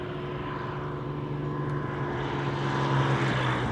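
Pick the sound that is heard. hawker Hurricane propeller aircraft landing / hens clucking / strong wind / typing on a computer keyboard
hawker Hurricane propeller aircraft landing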